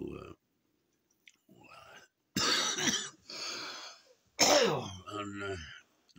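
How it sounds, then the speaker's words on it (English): A person coughing and clearing their throat in several rough, separate bursts with quiet gaps between, close and fairly loud, mixed with some muttered speech. "my cough comes and goes."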